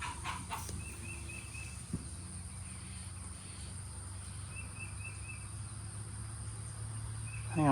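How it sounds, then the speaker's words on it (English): Backyard chickens cluck faintly at a distance amid outdoor ambience with insect-like chirps, a few soft calls scattered through otherwise quiet air. "Something messing with my chickens."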